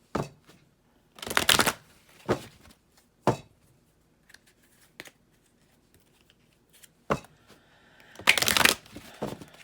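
Tarot cards are shuffled in several separate bursts, each a quick, crisp riffling of card stock heard up close, with near silence between the bursts.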